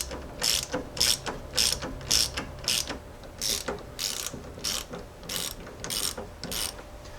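A hand ratchet tightens the clamp bolts on a Jeep Grand Cherokee ZJ tie rod, giving a close, loud run of quick clicking strokes in steady bursts with brief pauses between them.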